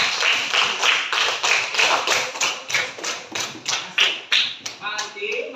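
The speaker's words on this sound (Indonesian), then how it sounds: "boleh tepuk tangan dulu" A group of students in a classroom lesson claps hands together in a steady rhythmic pattern, about a dozen crisp, evenly spaced claps ringing out loud and close with light room echo.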